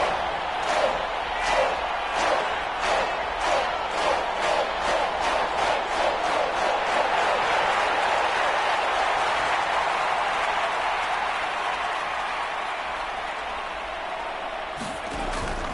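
A stadium crowd cheers in a PS4 football video game, opening with rhythmic chanting claps that swell into a sustained, loud roar, then ease slightly toward the end.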